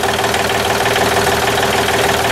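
A small engine idles fast and loud, a close, continuous buzzing rattle with steady vibration and no voices.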